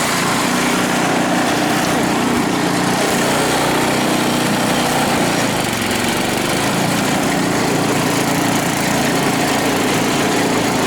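A small engine runs loud and close on a hill in high gear, giving a constant, dense buzzing drone that barely changes for the whole stretch, with no voices.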